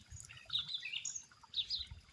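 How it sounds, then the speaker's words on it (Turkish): Several birds chirp in quick bright bursts, moderately close, over a soft low background with no talking. "Kuşlar da bana eşlik yapıyor arkadaşlar."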